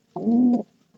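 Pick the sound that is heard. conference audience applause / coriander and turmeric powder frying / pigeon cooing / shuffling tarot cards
pigeon cooing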